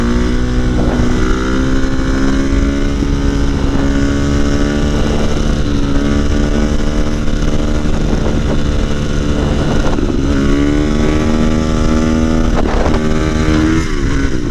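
A motorcycle engine revs hard during a wheelie on the road, its loud, buzzing note climbing and falling through several throttle surges, with wind rushing over the microphone throughout.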